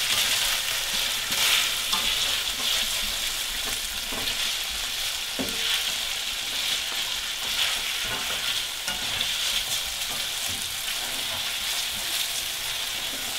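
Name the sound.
chow mein with crispy noodles frying in a pan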